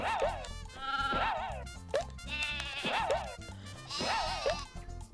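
Sheep in the video game Croc: Legend of the Gobbos let out a string of wavering bleats, several in quick succession, loud and close over busy game background sound.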